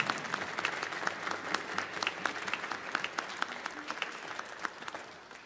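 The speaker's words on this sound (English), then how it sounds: "Can we have a round of applause" An orchestral concert audience inside a church in Los Angeles applauds, a dense, moderately distant wash of clapping that holds steady before easing slightly at the close.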